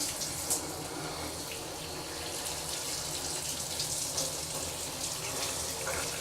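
Shower water running steadily while a person's hair is wetted, a continuous broadband hiss without a break.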